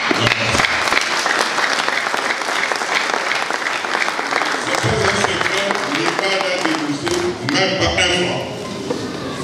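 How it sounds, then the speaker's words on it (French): Audience at a Sino-Congolese mining forum in Mbuji-Mayi breaking into sustained, loud applause, a thick crowd of clapping hands close by that carries throughout, with voices talking over part of it. "Maman Joël mérite les applaudissements."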